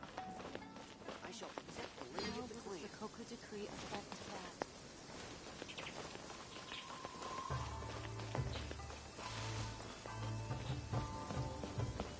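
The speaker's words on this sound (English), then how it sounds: "Quite a downpour." Steady rain noise fills the scene, with game-like effects and music over it; a low rhythmic pulse enters partway through.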